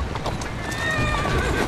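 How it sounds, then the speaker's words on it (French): A horse in the video game Assassin's Creed Syndicate gallops with quick hoofbeats while letting out a clear, drawn-out neigh, moderately loud with no talk over it. "Une bonne jument."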